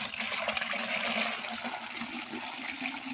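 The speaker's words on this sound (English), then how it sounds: "So it does have quite a bit of water that comes out" Steady rush of water pouring out of a rainwater catchment system fitted with a first-flush diverter, a continuous close gush with no talk.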